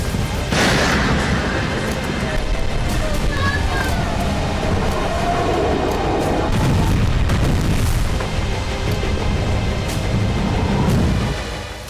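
Booms and blasts from Iranian missile strikes on Israel roll through a dense, noisy soundscape, with continuous loud rumbling and impacts that carry on for the whole stretch.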